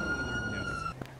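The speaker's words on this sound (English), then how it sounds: "siren check" A police car siren is briefly tested during a traffic stop, a short rising wail cut off abruptly, heard over a steady vehicle hum.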